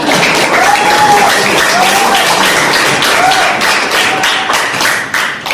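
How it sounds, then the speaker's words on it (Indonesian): A classroom full of students claps steadily and densely for several seconds while voices chatter over the applause. "tepuk tangan untuk kita"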